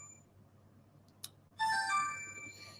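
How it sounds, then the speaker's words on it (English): A phone rings during a group support call on Zoom: a brief chime, then a bright, sustained electronic ringtone that starts loud and carries on to the end, with no talking over it. "This phone always wants to ring as soon as I start doing something."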